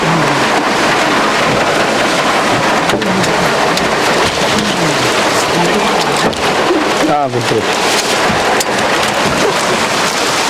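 Heavy rain pours steadily on surfaces at an outdoor food service in Tiruvannamalai, with rumbles of thunder and faint voices mixed into the constant downpour.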